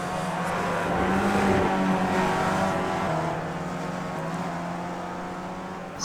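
Race cars in the iRacing sim, Skip Barber cars at Zolder, braking hard into the final chicane: a steady loud engine drone that dips and shifts pitch as the cars slow, with no talk.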